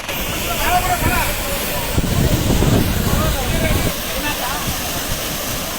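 Water gushing out during the trial run of a bandi lift irrigation scheme, a loud steady rushing hiss with people talking over it.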